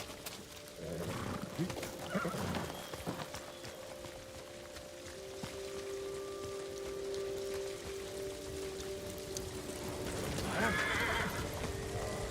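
A horse whinnies twice in a samurai video game, once near the start and again near the end, with hooves clopping and a low sustained hum between the calls.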